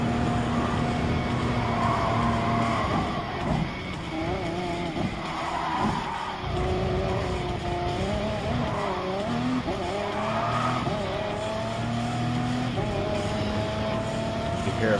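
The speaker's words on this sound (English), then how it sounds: "You can hear the front wheels kind of chirping there when the engine kicks in" Front tires chirping and squealing in short bursts as the engine kicks in on a race car in Gran Turismo Sport, over a steady loud engine drone with a voice talking over it.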